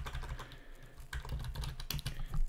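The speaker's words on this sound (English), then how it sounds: "we can now type in our normal MidJourney command" Fingers type a text command on a computer keyboard, a quick, close run of key clicks with uneven rhythm over about two seconds.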